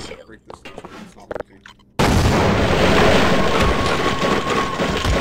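A grenade going off in Sven Co-op: after brief talk and clicks, a sudden loud blast erupts into a sustained rumbling roar that carries on to the end.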